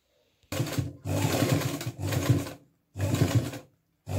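Sewing machine stitching a decorative border onto a kurti, running in four loud bursts of roughly half a second to a second each, separated by short pauses, with no talk.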